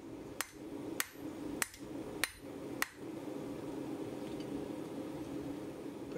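Five evenly spaced, ringing hammer blows on a hot cut hardy taper at a blacksmith's anvil, followed by a steady low hum of the forge space.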